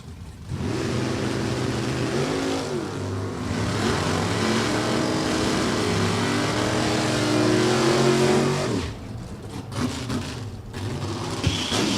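1956 Corvette drag racing a Mustang at New England Dragway: engines rev and roar hard as the cars launch, then the pitch climbs through gear changes before the sound drops away as they pass into the distance.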